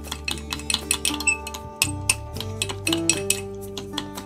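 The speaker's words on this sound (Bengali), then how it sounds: "দেখো এইভাবে চামচ দিয়ে সময় নিয়ে কিন্তু মেশাতে হবে, যাতে করে চিনিটা খুব সুন্দরভাবে গলে যায়।" A metal spoon stirring sugar into a cup of coffee, a quick series of light clinks and taps against the cup over a steady low hum, with no voices.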